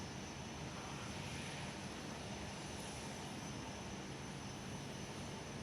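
A Boeing 777 airliner passes over near Perth Airport as a faint, steady, distant broadband roar.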